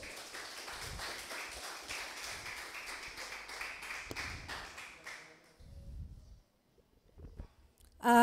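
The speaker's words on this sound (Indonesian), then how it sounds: "Dikasih aplaus dulu biar nggak ngantuk." A vocational high school class in Balikpapan applauds, a quiet, steady patter of many hands that thins out and fades away, leaving near silence with a few faint bumps and a sharp noise at the very end.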